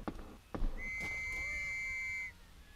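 A whistle is blown in the WW1 trench horror game Trenches, one sustained shrill tone lasting about a second and a half, preceded by a couple of short thumps.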